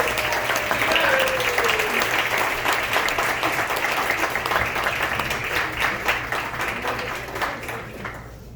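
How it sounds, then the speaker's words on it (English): Steady applause from a concert audience at a big band show, loud and continuous for the full stretch before easing slightly at the end, with a faint voice briefly under it. "Give her a nice round of applause, ladies and gentlemen."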